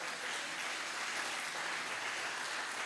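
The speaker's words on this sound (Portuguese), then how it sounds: "Então vamos aplaudir o Senhor," A church congregation claps together in a dense, even patter that holds steady throughout and sounds fairly soft and distant.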